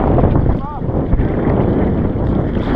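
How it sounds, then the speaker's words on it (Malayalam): Strong wind buffets the microphone on open water during a boat ride caught in a cyclone, a steady loud roar filling the whole stretch, with a brief whistling tone partway through. "നല്ല കാറ്റും."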